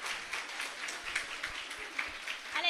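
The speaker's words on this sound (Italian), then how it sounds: "io farei un applauso ancora più forte a Denise" Audience at a singing festival semifinal applauds a singer, scattered rhythmic clapping from a modest crowd, somewhat thin and uneven, rising slightly at the end.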